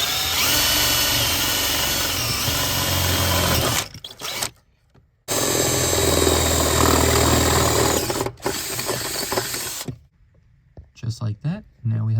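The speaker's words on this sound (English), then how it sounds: "now we have to drill the hole for the bolts" Power drill boring bolt holes through the firewall of a Nissan 240SX during a manual transmission swap, two loud sustained whining bursts separated by short pauses, with brief quieter handling noise at the end.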